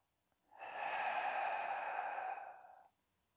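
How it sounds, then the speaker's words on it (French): One long, steady exhalation in a diaphragmatic Pilates breathing pattern, close and clear, rising over about two seconds and then fading, with no talking. "Vous l'entendez, cette respiration est spécifique, elle est assez spécifique au pilates"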